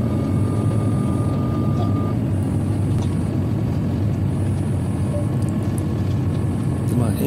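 A Rolls-Royce jet engine on an Airbus A350 in flight roars as a loud, steady broadband drone heard from inside the cabin, unbroken from start to finish, with a faint thin tone running briefly on top.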